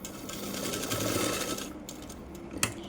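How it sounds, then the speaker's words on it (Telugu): A sewing machine stitching a folded blouse hook belt, a steady close mechanical whir for about two seconds that eases off, followed by a sharp click near the end. "ఇలా లోపలికి ఫోల్డ్ చేసి స్టిచ్ వేసేయాలి"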